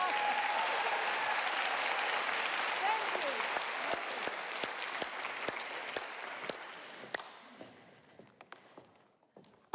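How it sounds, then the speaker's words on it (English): Warm applause from a conference audience at a global health meeting begins full and steady, then thins over several seconds into scattered individual claps before dying away. "one more applause for her"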